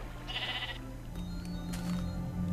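A sheep in the video game Minecraft bleats once, a short wavering cry heard faintly over a low steady hum of background game sound.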